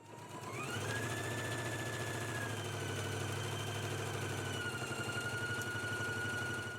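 A sewing machine stitching a seam on a Simplicity S3216 Gunne Sax dress, running steadily and close with a rapid even mechanical whir and clatter for the whole stretch, unbroken by speech.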